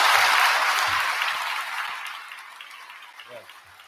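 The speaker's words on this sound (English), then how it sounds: "give yourselves a massive round of applause" Graduates at a graduation ceremony applauding themselves, a broad crowd clapping that starts loud and fades away over a few seconds, with a few voices underneath.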